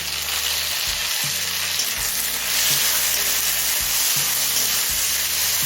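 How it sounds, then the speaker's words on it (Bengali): Chopped tomato pieces fry in a pan over low to medium flame with onions, a loud steady sizzle broken by rhythmic scraping stirs of a spatula. "এবার টমেটো গলে আসা পর্যন্ত ভেজে নেব"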